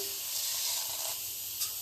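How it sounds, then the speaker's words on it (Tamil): Steady bright sizzle of mustard seeds, fenugreek and cumin frying in hot oil for sambar, a continuous crackling hiss with no talking. "சாம்பார் தாளிக்க போகிறோம்"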